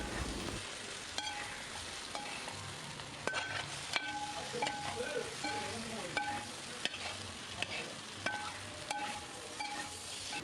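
Paneer and capsicum sauté in a pan over a gas flame: a constant sizzle and frying hiss with repeated spatula scrapes and taps from stirring, close and clear.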